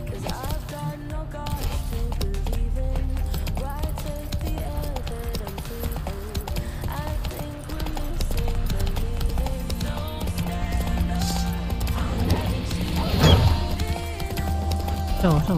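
A horse gallops through a forest in the video game The Witcher 3, its rapid clip-clop hoofbeats running steadily throughout, joined by game sounds and a brief thud near the end.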